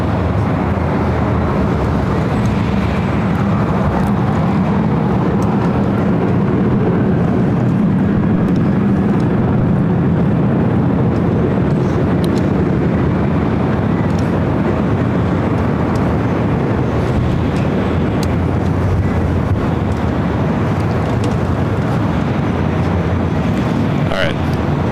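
An airliner takes off from runway 24 left at LAX with a continuous loud roar for the whole clip, mixed with wind noise, while a voice talks over it.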